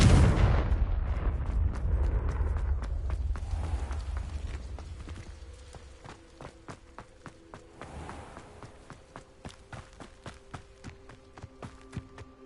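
Confringo blasting spells in the Hogwarts Legacy video game: a loud, booming burst opens, then decays into a long rumbling tail with scattered sharp cracks and clatters that carry on at lower level.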